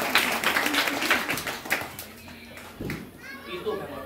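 Scattered clapping from an audience of children and adults at a lively outdoor gathering in Tacachico, El Salvador. It is brief and uneven and mixes with chatter and children's voices, fading as talking continues.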